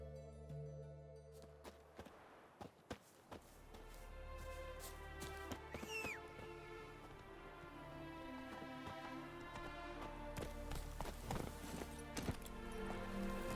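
Witcher 3 horse Roach's hooves clip-clopping in a steady galloping rhythm, fairly faint under game music, with a few sharper hits along the way.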